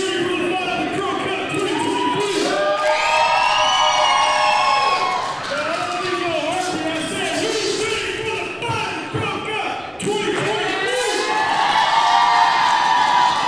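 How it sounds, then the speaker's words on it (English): A large arena crowd at a live professional wrestling show roars and cheers with whoops and shouts, a loud sustained swell that dips briefly and surges again near the end. "That crowd will give you chills,"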